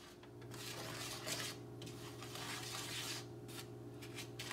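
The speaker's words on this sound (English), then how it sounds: "And then we're mixing all of this up." A utensil scrapes and rubs around a pan while cornstarch, sugar and salt are stirred together, a steady gritty swishing in repeated strokes over a faint hum, with no voices.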